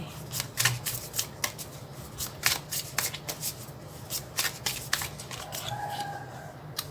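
Tarot cards being shuffled by hand make a steady stream of crisp riffling and flicking strokes, close and continuous throughout with no voice.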